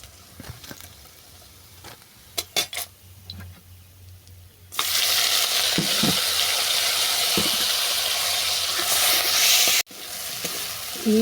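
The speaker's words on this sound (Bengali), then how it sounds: "এই তেলে আমি চিংড়ি মাছগুলোকেও ভেজে নেব।" Prawns dropped into hot oil after fritters are fried, setting off a sudden loud, sustained sizzle that fills the second half, preceded by quieter clinks and taps.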